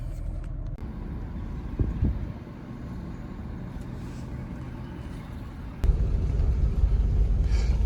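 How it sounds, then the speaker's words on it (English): Steady low rumble from a Ford Torino's engine while driving, heard from inside the car, with a noticeable rise in loudness near the end; no one talks. "I decided to come home and drive the Torino"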